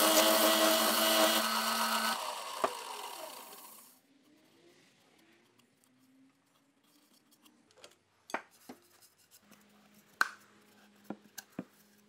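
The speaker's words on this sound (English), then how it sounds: "I'm just going to turn the front of the two rings with them held together" A loud, steady lathe whir with broadband cutting noise as two wooden rings are turned for a few seconds, then it stops, followed by quiet scattered taps and knocks.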